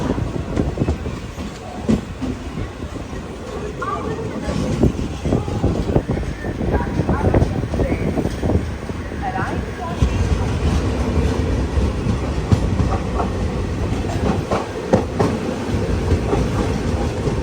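From on board, the Mangala Lakshadweep Express pulls out of Kannur railway station with loud, continuous wheel rumble and a rhythmic clickety-clack.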